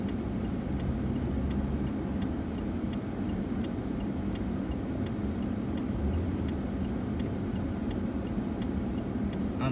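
A car drives behind a truck in a parade, a steady low engine and road rumble with a regular ticking pulse running through it and no talking.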